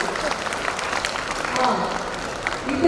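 Audience applause at a school annual day, a continuous dense clatter of many hands clapping in a large space, swelling slightly toward the end, with faint voices beneath.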